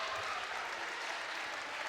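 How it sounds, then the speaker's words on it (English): Steady applause from students at a boys' basketball tournament game, a dense wash of clapping hands that holds evenly throughout with no voices standing out. "and Pavia gets a nice round of applause from all of the students in attendance tonight"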